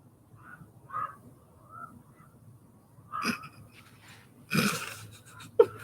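A few hoarse, croaky crow caws sound at uneven intervals against a quiet background, some harsher and louder than others, with a faint breathy noise between.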